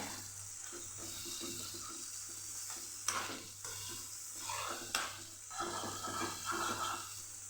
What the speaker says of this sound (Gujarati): એમાં થોડું પાણી ઉમેરીને આમાં પાછું સાતડી લેવાનું છે